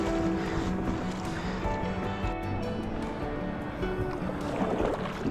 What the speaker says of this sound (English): I've just paddled out from our launch, heading out a little bit further from the launch, but just following this cliff shoreline